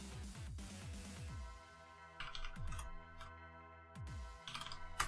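Keyboard typing from the Space Quest 2 adventure game, a short run of quick clicks and taps sitting over background game music and tones.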